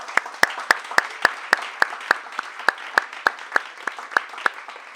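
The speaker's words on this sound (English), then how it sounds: "Let's give Elaine another round of applause." Audience applause for poet Elaine Kahn at the close of a reading, a thin scatter of hand claps from a small crowd with several sharp, evenly spaced claps standing out up close, steady for the whole stretch.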